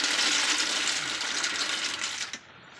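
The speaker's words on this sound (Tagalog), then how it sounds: "buhos na ni Romano." Water gushes out in a steady, hissing pour and stops abruptly near the end, heard up close in a rural farm setting in the Philippine countryside.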